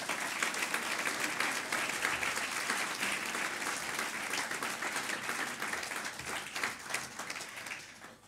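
Sustained audience applause fills a public political meeting hall, dense and steady clapping from a large crowd throughout, fading slightly at the end.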